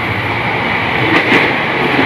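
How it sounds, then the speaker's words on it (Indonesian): A commuter train rolls past on the line toward Jakarta Kota station, a steady close rumble with rail noise and faint clatter holding level for about two seconds, no voices. "Ini ada kereta lagi yang ke Jakarta Kota ini"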